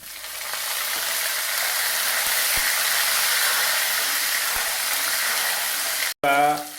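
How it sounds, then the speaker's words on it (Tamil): Curry leaves and vadagam sizzle in hot oil for a Tamil brinjal kuzhambu, a steady loud broadband frying hiss that runs continuously, then cuts off briefly near the end before a short burst of clattering and sizzle. "எண்ணெய் கூட சேர்த்துக்குவோம் இது கூட இந்த கருவேப்பிலையும் சேர்த்துக்குவோம்"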